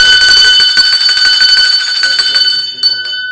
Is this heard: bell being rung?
yes